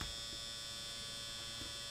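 An electric shaver or hair clipper fitted with a number 8 guide runs with a faint, steady electric hum and no pauses.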